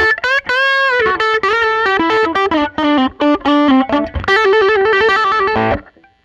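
Electric guitar played with its two pickups combined out of phase for a thin, hollow tone, ringing melodic phrases through an effects unit with light distortion, loud and continuous before fading out at the end.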